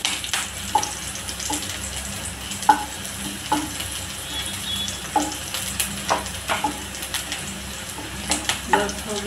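Paneer frying in a pan until light brown: a steady close sizzle runs throughout, broken by frequent clicks and scrapes of stirring, with no talk.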